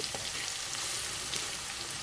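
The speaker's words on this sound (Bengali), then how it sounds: "কুচনো গাজরগুলো কিন্তু ছেড়ে দিলাম" Grated carrots frying in hot oil in a pan for Bengali-style fried rice, giving a steady, close sizzle with faint crackles for about two seconds and no talking.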